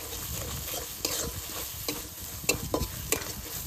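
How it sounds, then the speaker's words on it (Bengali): A spice paste of ginger, cumin and coriander fries in oil with a continuous close sizzle, while a utensil stirring and scraping the pan adds irregular clacks. "মশলাটা একটু ভালো করে ভেজে নিয়েছি"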